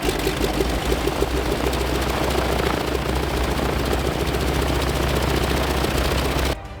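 A T-6 propeller airplane engine drones loudly and steadily in flight, heard from the back seat, a constant throbbing roar that cuts off abruptly at the end.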